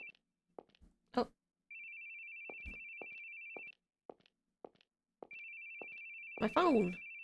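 Phone ringing in a horror video game, two long steady electronic rings separated by a pause, interrupted by clicks and footsteps, with a voice speaking over the end.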